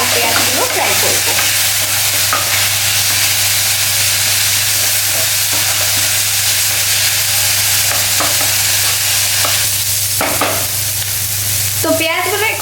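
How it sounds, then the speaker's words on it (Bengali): Onions frying in a pan with chili and cumin powder, a loud, steady sizzle throughout with scraping and clattering as the mixture is stirred, no talking. "তারপর ভালো করে নাড়াবো আর পেঁয়াজগুলো ফ্রাই করবো।"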